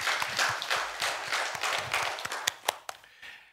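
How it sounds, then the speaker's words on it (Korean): A church congregation applauding during a Sunday worship service, a soft, steady wash of many hands clapping at a distance, tapering off with a few final louder claps near the end. "하나님 영광의 박수 올려드리겠습니다"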